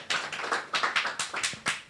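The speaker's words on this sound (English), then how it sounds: "Then another round of applause, please." A small congregation clapping at a Sunday church service, about a dozen close, fairly regular hand claps in quick succession, no voices.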